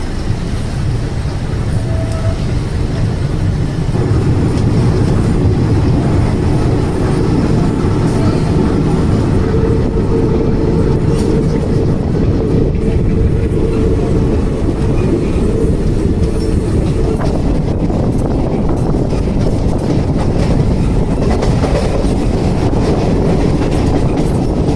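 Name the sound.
train arriving at Jalna station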